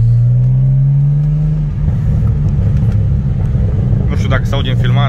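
A BMW 635i CSi with a standard exhaust drones and revs from inside the car, its engine note rising then breaking into rapid crackling pops and bangs near the end, while someone talks over it.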